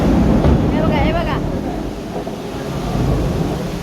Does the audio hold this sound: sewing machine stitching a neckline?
no